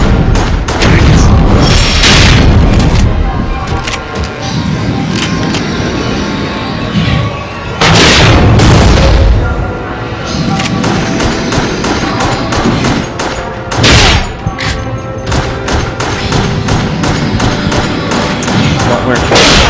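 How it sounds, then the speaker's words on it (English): Rocket launcher blasts in Resident Evil: The Darkside Chronicles: loud, heavy booms with a big burst near the start and another around eight seconds, layered over dense game noise and effects. "Use the rocket launcher! I got the rocket launcher. I'm shooting."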